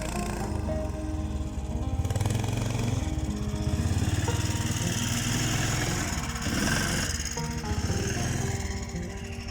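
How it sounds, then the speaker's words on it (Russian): A vehicle engine runs steadily close by as someone arrives at a lakeside spot in the Komi Republic, its low mechanical drone rising and falling slightly through the whole stretch, with no talk over it. "О, Женек приехал."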